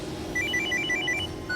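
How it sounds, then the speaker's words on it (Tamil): A phone rings with a bright electronic trilling tone, a short repeated burst of high beeps over a low background hum. "அவ தான் ஃபோன் பண்றா."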